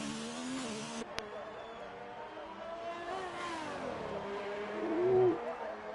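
A race car in the F1 2019 video game at Monaco, its engine note rising and falling as the throttle is feathered through corners, with a brief revving surge near the end and commentators talking over it.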